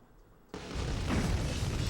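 A boss blowing up in the PS2 video game Gungrave Overdose: a sudden loud blast breaks a near-silence and swells into a sustained, roaring explosion rumble.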